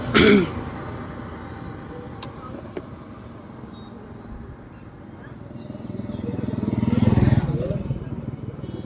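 Motorcycle revving hard during a burnout, its engine roar rising toward the end with some clatter and voices nearby.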